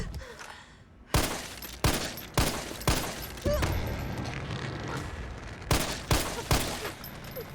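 Gunfire aimed at Nemesis in Resident Evil 3 Remake, a series of sharp, loud shots fired at a steady rhythm over continuous game noise, with a voice talking.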